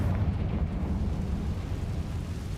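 A Confringo spell explosion in the Hogwarts Legacy video game, a deep, rumbling blast that stays loud and low throughout with no clear separate hits, and no talking.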